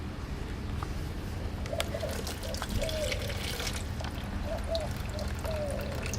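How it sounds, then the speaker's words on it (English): Water drains from a water heater tank into a bucket with a steady splashing trickle, continuous and close, while birds coo faintly in the background. "So still here you can see a lot of water is coming out"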